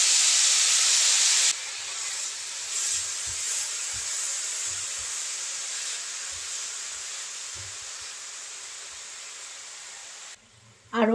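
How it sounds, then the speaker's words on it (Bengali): Chhana (cottage cheese) fries in ghee in a pan beside carrots, giving an even, soft hiss that runs steadily beneath a few faint low knocks, with a louder burst at the start and a brief voice near the end. "এখন ছানাটা দিয়ে দেব। ছানাটাও হালকা ভেজে নেব।"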